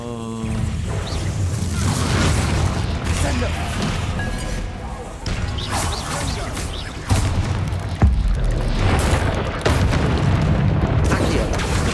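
Spell explosions and impacts in the Hogwarts Legacy video game, a dense run of booms, blasts and crackling effects over a constant game soundtrack, with a player's voice speaking over the action.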